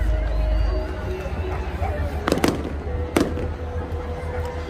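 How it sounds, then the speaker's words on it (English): Fireworks at a Bournemouth airshow display go off in two sharp bangs, with a steady crowd murmur and people talking beneath them. "One thing Bournemouth does do is a good firework display."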